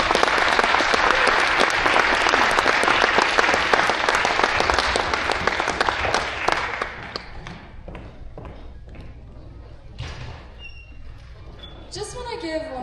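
Audience applause at a student-hosted regional conference, dense clapping for about seven seconds that then thins into scattered claps and quiet room noise, with talk heard faintly.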